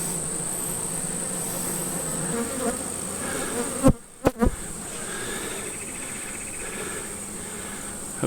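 A dense swarm of honey bees buzzes steadily around comb packed inside a column, a close, continuous droning hum briefly interrupted by a few sharp knocks midway.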